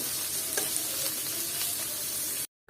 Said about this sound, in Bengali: আর তেলটা আমার গরম হয়ে গেছে আর এখন আমি দিয়ে দিব কিছু পেঁয়াজ কুচি আর এটাকে একটু সামান্য নেড়ে চেড়ে দিচ্ছি